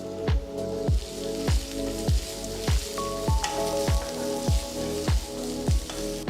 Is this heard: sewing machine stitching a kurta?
no